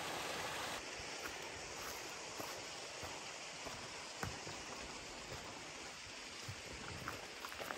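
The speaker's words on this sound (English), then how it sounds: "There is actual waterfalls in Florida." A waterfall in Florida pours in a constant, moderately distant rush of water along a hiking trail, even and unbroken throughout.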